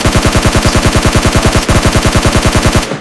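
Rapid automatic gunfire from PUBG Mobile Lite in a steady, loud burst of about twenty evenly spaced shots, cutting off abruptly near the end; game weapon sound with no talking.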